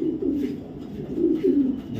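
Female 2022 racing pigeon from a BRPL club member cooing in steady, rolling low murmurs, close and fairly loud, continuous throughout with slight swells in the second half.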